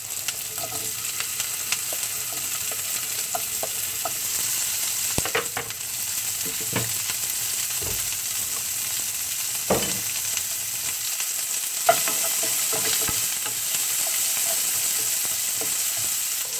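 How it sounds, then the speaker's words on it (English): Onion and peppers stir-fry in a hot pan for pineapple fried rice, a steady close sizzle with intermittent scrapes and clacks of the spatula tossing the vegetables throughout. "let's stir fry for a few seconds."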